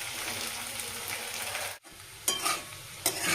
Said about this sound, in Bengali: আমার আলু পেঁয়াজ ভাজা হয়ে গেছে